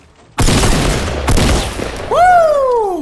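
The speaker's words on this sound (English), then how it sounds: "Jeez, that was a beautiful tac shotgun." Tactical shotgun fire in Fortnite: Battle Royale: a loud, close blast that rings out, a second heavy shot about a second later, then a voice whoops over the lingering gunfire.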